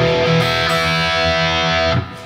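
Distorted electric guitar slowly plays a riff on the top two strings, a loud sustained saturated tone with steady note changes that cuts off near the end.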